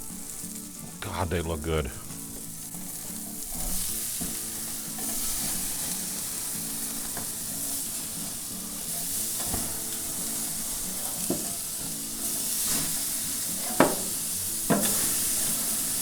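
Burgers sizzle on the grates of a Weber Spirit gas grill, a steady frying hiss running throughout, with brief clanks and a spatula scrape as they are flipped and a voice speaking briefly.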